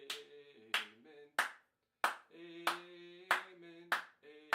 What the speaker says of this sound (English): you're clapping on the 2 and 4.